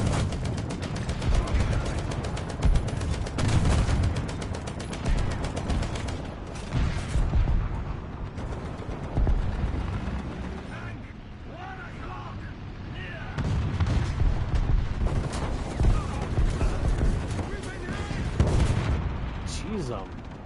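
Cannon fire in War Thunder, heavy booming shots recurring throughout amid continuous battle noise and other gunfire, loud and close, with a voice talking over parts of it.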